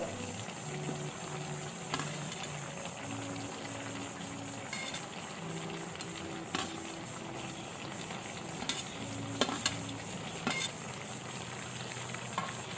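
Eggplant curry with grated coconut being stirred in a pan, a steady sizzle under repeated scraping and clinking of the spoon against the pan, close and continuous, with no talk.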